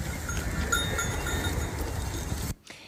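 A flock of sheep being moved along, heard as a steady close mass of shuffling and a jangling cowbell for over two seconds, then cutting abruptly to near silence.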